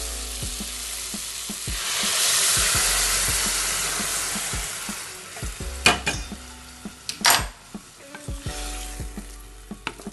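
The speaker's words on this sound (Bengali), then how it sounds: "এই ফোটানো জলটাই আমি এই শুক্তোর মধ্যে দেবো" Boiled water is poured into a shukto curry frying in a pan, raising a loud swelling hiss and sizzle that peaks early and then fades. Sharp clanks and knocks of utensils follow near the end, with no speech.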